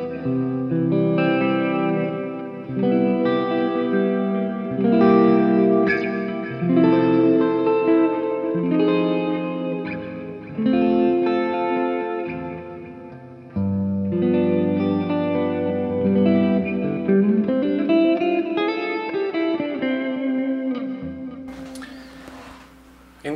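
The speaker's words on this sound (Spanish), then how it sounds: "ahí estoy usando solamente el drive más liviano con el chorus, el reverb y el delay" Electric guitar played through a light overdrive with chorus, reverb and delay pedals, ringing out steady clean arpeggiated chords with shimmering, echoing sustain, loud and alone, ending with a brief noisy burst.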